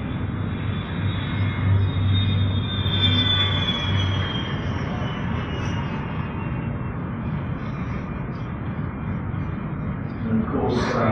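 Virgin Galactic's White Knight Two carrier aircraft flies past with a loud, steady broadband jet roar that holds throughout, faintly swelling and then easing off near the end.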